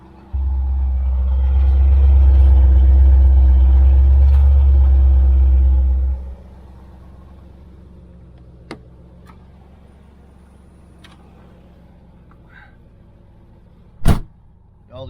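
A 1985 Chevrolet Corvette starts with a loud, deep engine rumble that holds steady for about six seconds before cutting off, followed by quieter background sounds and a sharp knock or clunk near the end.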